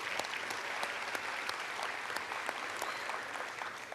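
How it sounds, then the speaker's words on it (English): A banquet crowd at the Houma Terrebonne Chamber of Commerce gives a sustained round of applause, dense steady clapping from many hands filling the room. "If you all join me one more time in a round of applause for Nick."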